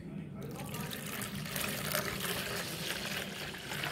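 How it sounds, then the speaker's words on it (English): Water poured into an organic pest-control solution, a continuous splashing fill with trickling, liquid texture, close and moderately loud throughout. "Then to this solution, add 1 liter of water."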